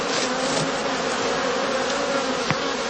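Honeybees swarm around a heather skep in a heathland apiary, giving a continuous, even buzzing hum with no voices present.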